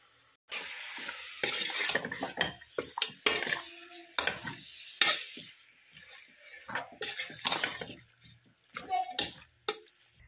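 Slice-cut meat, salted and seasoned with meat masala, fries in a pan with intermittent sizzling and spatula stirring scrapes, close-up, with a voice speaking in between.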